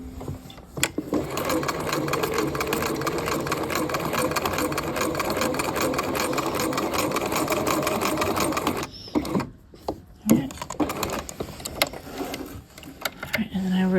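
A sewing machine runs steadily, stitching canvas into a half-scale jacket at close range, with a continuous fast mechanical chatter that stops near the end, followed by a few clicks and handling noises.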